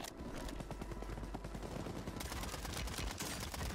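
Rapid automatic gunfire from the shooter video game Warzone 3 crackles in dense bursts throughout, loud and continuous with overlapping shots.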